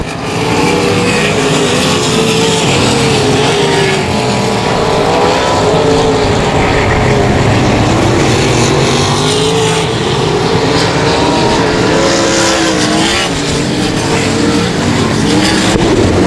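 Race cars at 281 Speedway, a loud continuous roar of several engines circling the track, rising and falling as they pass, with no talk.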